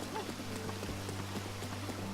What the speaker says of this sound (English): this constant rain is kind of a pain in the ass